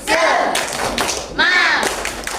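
An Indonesian primary school class does a rhythmic spirit clap, with sharp grouped claps and thumps landing in a quick pattern alongside children's voices chanting together, close and lively in a classroom.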